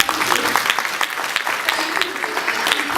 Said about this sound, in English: please a clap for ITC.